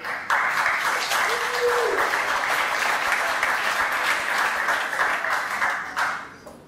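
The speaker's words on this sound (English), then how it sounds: "Round of applause" Audience applause fills a demo day for accelerator startups, a steady broadband wash of many hands clapping for about six seconds, close and even before tapering off at the end.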